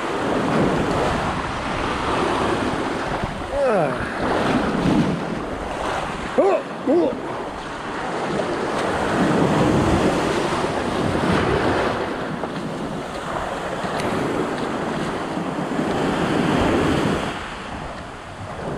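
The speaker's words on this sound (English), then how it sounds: "Biggie waves." Ocean waves break and surge on the Koh Samui shore on a morning beach walk, a loud continuous wash of surf with steady wind buffeting the microphone and a brief voice in the middle.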